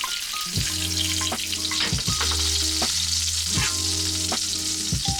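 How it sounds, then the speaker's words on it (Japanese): Chicken breast sizzles loudly in a pan of foaming oil and butter, with repeated scraping clanks of a spoon basting it every second or so over the constant close frying hiss; no talk. "油をかけてバターをかけていくことで、このバターの香りをまとわせるっていうことができます"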